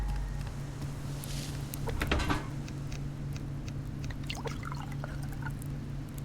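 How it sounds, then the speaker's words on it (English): Water being filled up in the survival game Subsistence: a steady poured trickle of liquid running on under a constant low background hum, with no talking. "I'll fill up my water."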